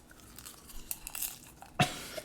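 Popcorn being chewed right next to the listener: a quick run of soft crunches and mouth noises, ending in one louder bite.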